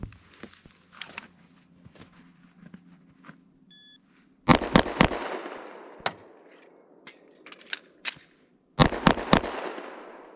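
Handgun shots in a timed low-ready drill with a reload: after a faint beep, one fast string of sharp, loud reports, a pause with quieter handling sounds, then a second rapid string.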